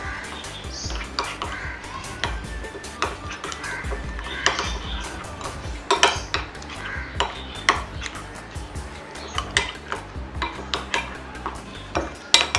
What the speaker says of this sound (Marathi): हे चांगलं आपण मिक्स करून घेऊया।